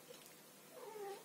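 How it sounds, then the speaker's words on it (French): A pet cat gives one short, faint meow near the end. There are no voices, only quiet room tone. "C'est mon chat qui est passé derrière."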